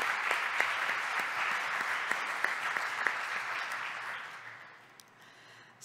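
Audience clapping at a nuclear medicine highlights lecture, sustained applause with sharp individual claps that fades away over the last second or so.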